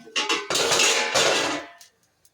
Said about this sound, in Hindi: अब देखिए आज आपको दिखाएंगे कितना सारा मुझे बर्तन धोना है।